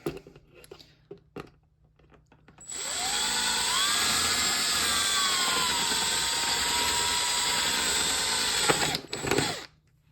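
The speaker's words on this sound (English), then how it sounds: "So I'm going to do a bunch of these holes on the bottom with my drill" A handheld power drill bores a hole through the bottom of a plastic winter-sowing container, one steady whining run of several seconds that starts abruptly and cuts off, with scattered handling clicks before and after.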